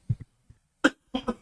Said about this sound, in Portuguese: Desculpa, eu tô com uma tosse.